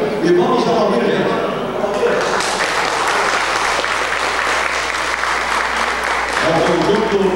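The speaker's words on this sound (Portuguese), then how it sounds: "vamos aplaudir, gente" Loud, sustained applause from a television program audience carries on throughout, a dense crowd clapping with a voice speaking over it near the start.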